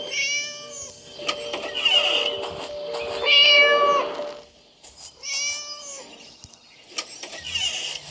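A video game cat meows several times, each cry long and tonal, clear and close, with brief pauses between them.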